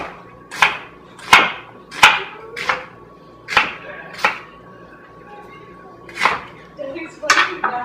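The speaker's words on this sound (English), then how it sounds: "let's get a half an onion here, and we're gonna cut it up" A knife chops through half an onion on a board, eight or nine sharp, irregularly spaced cuts close up, with faint room tone between strokes.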